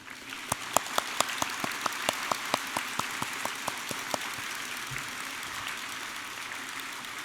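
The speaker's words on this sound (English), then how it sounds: "Let's give all of us a warm round of applause" Audience applause at a university business school commencement ceremony: a few sharp individual claps rise into brief scattered clapping, then fade to a low hall murmur, with no talk.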